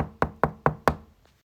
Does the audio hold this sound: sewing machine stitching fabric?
no